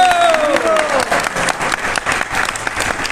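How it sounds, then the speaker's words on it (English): Audience clapping in response to a lecture at a Hindi religious discourse, dense and loud from the start with a voice tone fading in the first second, continuing steadily throughout. "So everybody should clap to respect Vaninath's lecture."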